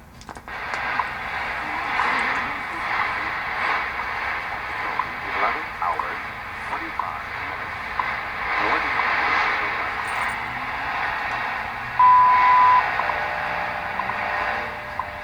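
Broadband hiss and static from a radio receiver fed by a Sony AN-LP1 loop antenna wired straight in with its noise attenuator filter taken out, a steady rushing noise filling the whole clip with faint shifting tones and no talk.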